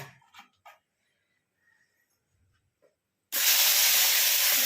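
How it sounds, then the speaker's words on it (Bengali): Oil seasoned with salt and turmeric hitting a hot pan, a sudden loud, dense sizzling hiss that bursts in after a few quiet seconds with faint clatter and carries on steadily. "ঢাকা দিয়ে ফাটতে পারে, ফাটছে দেখুন"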